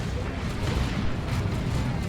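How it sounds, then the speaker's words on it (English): A lascannon shot in the Dawn of War 2 strategy game, heard as a dense, sustained booming rumble that fills the whole short stretch with no clear separate blasts. "that's a las cannon shot though"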